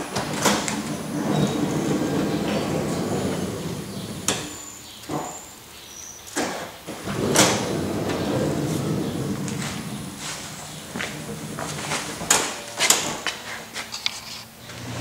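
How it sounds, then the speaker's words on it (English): Power sliding door on a Honda Odyssey minivan, recently repaired after a cable replacement, runs through motorized opening and closing cycles with a long mechanical whir, then sharp latch clunks and clicks, heard close up with no talking. "Okay, the power sliding door is working."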